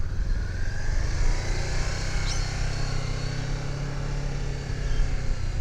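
A motorcycle engine running steadily during a riding lesson, a continuous close low throbbing hum with slight throttle changes and no clear rev peaks.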